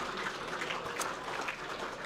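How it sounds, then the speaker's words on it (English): Guests at the close of the Island Hustle 2025 draft evening give a round of applause, a steady, fairly soft wash of many hands clapping without talk. "I think we deserve one more round of applause for what's been a wonderful evening"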